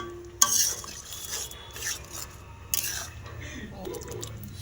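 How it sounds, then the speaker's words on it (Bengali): A spatula stirs and mixes thick gravy in a pan, giving a couple of sharp metallic scrapes and clinks among wet squishing and a soft background sizzle. "এটা দিয়ে ভালো করে তারপর মিক্স করে নেব।"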